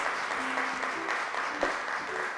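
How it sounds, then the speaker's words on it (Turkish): A studio audience applauds steadily on a children's programme, a continuous fairly soft wash of clapping with a faint tone and a brief thump partway through. "Ayza'yı alkışlarla mikrofona çağırıyoruz."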